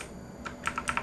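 A computer keyboard is tapped for a Control Alt F shortcut, a few quick close clicks clustered near the end after a quiet start.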